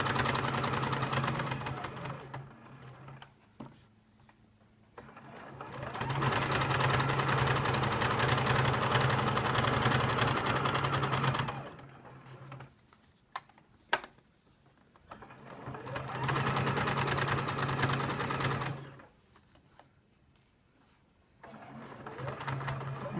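A sewing machine stitches near a zip on a fabric pouch, running in three long bursts of fast, steady clattering with quiet pauses between them as it slows and restarts.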